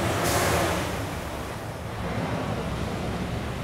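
A town truck drives past on a road outside a home, a steady broadband rumble and whoosh filling the whole stretch, loudest near the start and then holding level as it continues by without voices.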